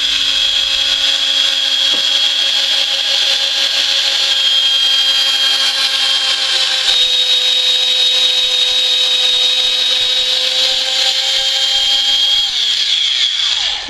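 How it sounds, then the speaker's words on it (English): A power drill whines at a high steady pitch for about fourteen seconds, drilling pilot holes for a built-in wall mirror frame, close and loud, then spins down at the end. "Drilling pilot holes."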